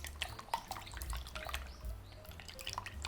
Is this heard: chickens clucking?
no